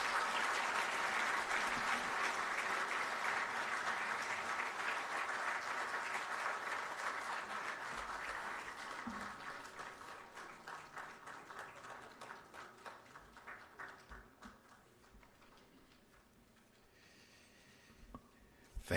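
Audience applause at the swearing-in ceremony of Ghana's Chief Justice: dense, sustained clapping from a large crowd, loud at first and gradually thinning and fading over the clip, with a few scattered claps at the end.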